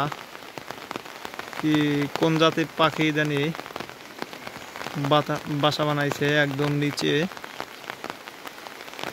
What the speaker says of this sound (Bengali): গ্রামের বাড়িতে টিনের উপরে বৃষ্টি পড়লে অনেক ভালোই লাগে।